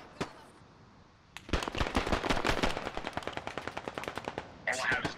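Rapid automatic AK rifle fire crackles in the streets of a war-torn city, with a single shot, then a long, loud run of close bursts that thin into spaced shots before a final rush of noise.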